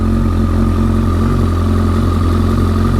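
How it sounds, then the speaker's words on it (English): A 2013 Kawasaki ZX-14R with an aftermarket Yoshimura exhaust idles steadily up close, giving a deep, even, mellow throbbing rumble with no voices. "it's a mellower tone, so it's not quite as loud as the old exhaust"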